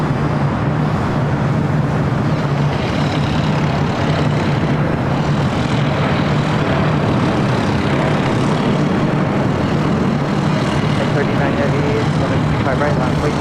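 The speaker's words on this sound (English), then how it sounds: "We've got the Japan Airlines Dreamliner now rolling down at 25 right." A Japan Airlines Boeing 787 Dreamliner rolls down runway 25 right at LAX, a loud, steady engine roar with a sustained low hum filling the whole stretch, while radio chatter and a voice talk beneath.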